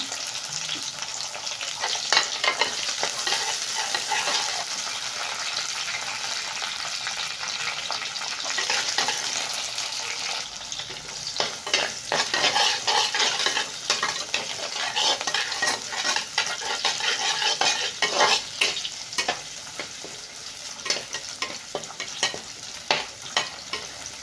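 Tamarind sautéing in a pan for a Tamil tomato-okra tamarind curry, a steady loud sizzle with repeated stirring scrapes throughout, no talking.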